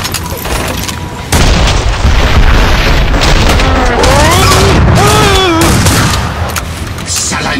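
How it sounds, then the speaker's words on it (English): A grenade explosion in the video game Killing Floor 2 lands as a loud, sustained boom that holds for several seconds over a dense layer of combat noise, with a character's voice briefly heard through the din. "Watch it, grenade!"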